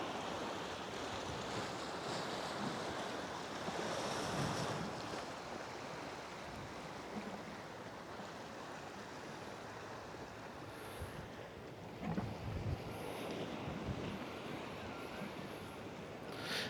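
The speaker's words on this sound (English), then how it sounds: "I'll be quiet for a second so you can listen to the sound of the sea." Continuous rushing surf with waves washing in and breaking on a rocky shore in Malta, mixed with wind buffeting the microphone, steady and fairly distant.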